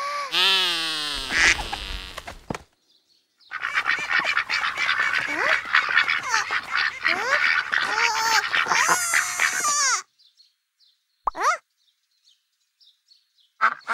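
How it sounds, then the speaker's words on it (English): Ducks quack and honk in a busy, overlapping flurry, loud and close, followed by a few scattered isolated calls after a pause. "If it looks like a duck and quacks like a duck, it must be a duck."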